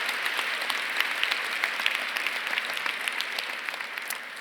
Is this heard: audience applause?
yes